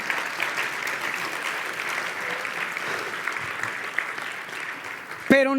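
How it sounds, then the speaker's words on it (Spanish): A church congregation gives strong, sustained applause for Jesus, a steady patter of many hands clapping at moderate volume that ends with a sudden sharp sound. "Da un aplauso a Jesús bien fuerte"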